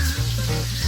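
Butter sizzling in a hot pan around a T-bone steak, a brief steady frying hiss with a low hum beneath.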